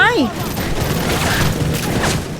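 Gunfire in Call of Duty Modern Warfare 3, a dense, continuous fusillade of rapid shots filling the clip at steady loudness, with a voice speaking over the shooting.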